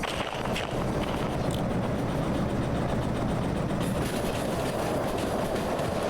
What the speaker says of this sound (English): Our train is leaving without us.